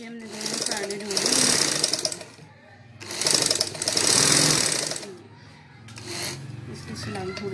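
Sewing machine stitching a seam on a salwar, running in several loud bursts with brief pauses between, with someone speaking over parts of it.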